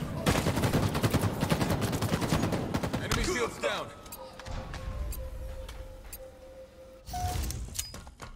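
Rapid gunfire bursts in a competitive ranked doubles shooter match, loud and dense for about three seconds, then quieter game ambience with a sustained tone before another short burst near the end.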